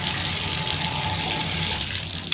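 Water rushes steadily into a bathtub as a tankless water heater is flushed out, a loud, even hiss and splash that continues without pause.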